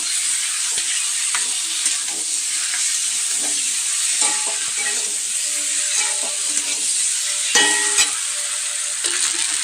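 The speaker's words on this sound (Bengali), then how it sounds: "এই যে রসুন আদা কাঁচা লঙ্কা এটা দিয়ে নিলাম এবার একটু এটাকে নাড়বো" Garlic, ginger and green chilli fry loudly in a hot pan, a constant close sizzle broken by repeated scraping and clinking of a spoon as it's stirred, with no voices.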